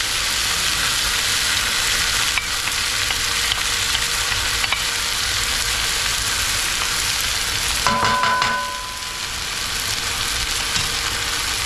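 Chicken frying in a pan with onion and garlic, a steady loud sizzle with occasional stirring clinks and a brief dip in intensity near the end.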